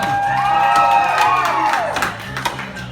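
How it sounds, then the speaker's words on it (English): A crowd at a lumberjack show cheers and whoops for a competitor, loud shouts rising together at once and then trailing off over about three seconds. "How many cheering for Dakota?"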